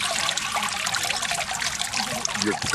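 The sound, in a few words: water draining from a papermaking mould over a tub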